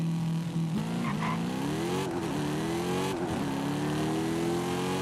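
A car engine in Forza Horizon 5 revs hard on a launch-control start, pitch climbing steadily with brief drops at gear shifts, loud and continuous.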